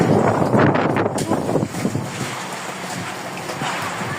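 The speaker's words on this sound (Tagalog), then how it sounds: "Malakas yung hangin." Strong typhoon wind in Hong Kong roars and buffets the microphone in gusts, loud at first and easing slightly, with faint voices underneath.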